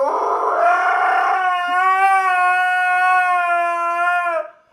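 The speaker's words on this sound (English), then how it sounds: "there's little noise other than the occasional barking dog" A single dog gives one long, close, loud howl that starts rough and then settles into a steady, sustained tone before fading out in a rural Colorado mountain town; no barking or speech is heard.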